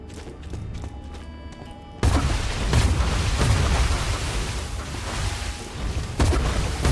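Gunfire and explosions from Borderlands played around Sanctuary on a Chuwi Hi10 X1 tablet with an Intel N150, breaking in abruptly after a quieter stretch and continuing as a loud, dense, booming barrage.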